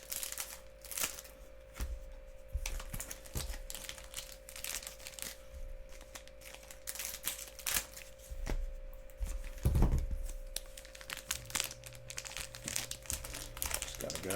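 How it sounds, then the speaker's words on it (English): Marvel Annual 21/22 trading card pack wrappers are cut open and handled, giving a steady run of crinkling foil and soft rustling with small snips and taps, fairly quiet and close. "I'm going to cut every one of the packs before we start, real quick."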